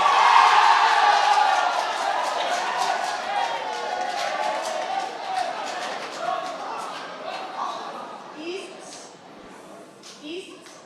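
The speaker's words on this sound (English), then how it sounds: "Number 2, a clap for them, Laikipia." A crowd at a drama and film festival awards announcement cheers and whoops loudly, the noise strongest at first and gradually thinning out, while a voice speaks over it.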